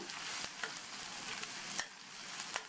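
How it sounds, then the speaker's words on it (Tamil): Onion, curry leaves and green chillies sauté in a pan with a constant soft sizzle, and occasional spatula scrapes tick through it at a moderate, quiet level. "அதையும் சேர்த்துட்டு இப்போ சேர்த்த எல்லாத்தையும் வதக்கிக்கணும்"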